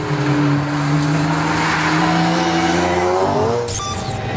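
A McLaren F1 GTR, a Le Mans-winning racing car with over 600 horsepower, roars loudly past on track, its engine note climbing and shifting steadily before a sharp high squeal near the end, with no talking.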